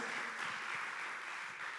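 A church congregation applauds, a steady dense wash of many hands clapping together, moderately faint and continuous, with no other voices standing out.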